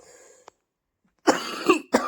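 Two harsh, close coughs break a near-silent pause, the first longer and rasping, the second short, after a faint noise at the start.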